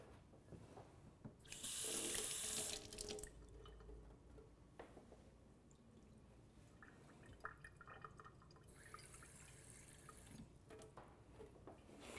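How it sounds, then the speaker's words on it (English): Water poured into a blender jar while making chutney, a bright splashing rush that runs strong for about a second and a half and then eases into quieter trickles and drips. The level is faint. "And put in around half a cup of water."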